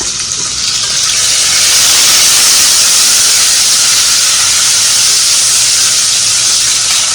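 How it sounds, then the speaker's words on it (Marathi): Tomatoes hitting frying ginger and garlic for Puneri misal, producing a loud, close, continuous steam-like sizzle and hiss that holds steady throughout. "आता आपण त्याच्यात टोमॅटो घालणार आहोत."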